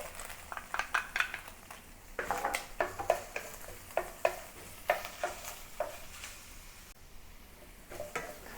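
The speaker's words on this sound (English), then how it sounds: "add a little bit more oil to the pan to fry the ginger and garlic, and also the white section of the scallion" Ginger, garlic and scallion whites stir-fry in oil in a pan for a beef and bok choy dish, giving a steady sizzle broken by repeated scraping strokes of a spatula against the pan.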